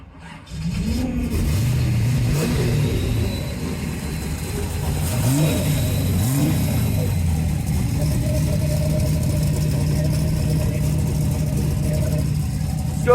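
A 1969 Camaro SS with a 427 big-block V8 and upgraded headers cranks briefly, fires, and blips its throttle in a few loud rising revs before settling into a deep, lumpy idle close by.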